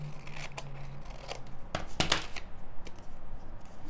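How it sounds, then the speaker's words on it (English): Scissors snip through folded paper during a paper pop-up craft, a series of close, crisp cutting strokes with soft rustling of the paper in between. "we'll fold it over and cut it off."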